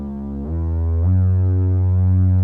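A sawtooth bass synth plays a short bass line in a trap-style beat, two low sustained notes sliding down, loud and alone with no talk.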